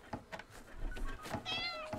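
A cat meows in the video game Dordogne, a rising, drawn-out cry near the end that follows a couple of shorter mews, with a low rumble of game ambience underneath.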